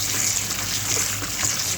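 Otazi leaves are washed in salted water, giving a steady splashing and sloshing close by with soft trickles throughout.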